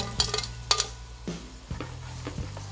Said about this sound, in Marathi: क्रिस्पी भेंडी फ्राय तयार झालेली आहे आणि आता मी तुम्हाला याचा आवाज ऐकवते म्हणजे तुम्हाला कळेल की ही किती क्रिस्पी झालेली आहे